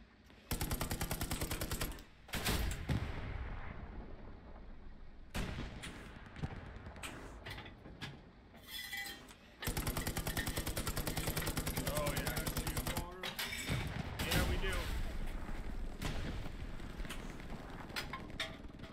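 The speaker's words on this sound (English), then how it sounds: "I think I'm shooting the fence in front of us" Bursts of automatic gunfire from the Hell Let Loose video game crackle in repeated volleys through most of the stretch, with short quiet gaps, while players talk over the shooting.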